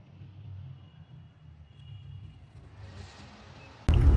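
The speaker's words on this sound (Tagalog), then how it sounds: "Kaya tuloy, yung tunog ng makina, dinig na dinig, hanggang sa inside cabin" Toyota Tamaraw Hilux Champ engine idling with an uninsulated firewall, a steady low rumble heard from inside the cabin, ending in a sudden loud burst of noise.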